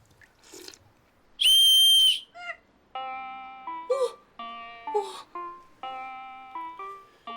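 A loud shrill whistle blast followed by a series of shorter, quieter whistled tones at varying pitches, close by.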